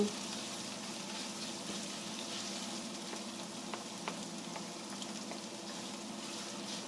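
Food sizzles and crackles steadily in a hot wok while being stirred, a soft continuous frying hiss with occasional small pops.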